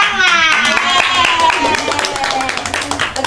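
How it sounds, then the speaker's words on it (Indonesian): Schoolchildren clapping together in a classroom, brisk rhythmic claps for a few seconds mixed with children's voices and chatter. "Oke, tepuk tangan."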